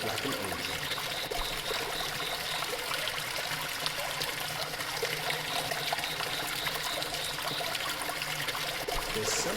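Water trickles steadily into a fountain in a video game, a constant close wash of splashing and dribbling with no pauses and no voices.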